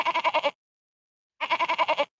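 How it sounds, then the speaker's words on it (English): A goat sound effect: two bursts of quick, wavering bleats separated by a short silence, loud and close with nothing else audible. "We should have done the goat for Kip's segment"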